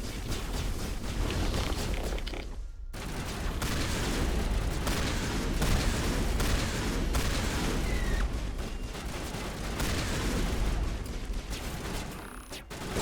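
A grenade blast and bursts of gunfire fill a firefight in the sci-fi video game Mass Effect Legendary Edition, with repeated sharp cracks and booms over dense, steady battle noise, moderately loud throughout and without talk.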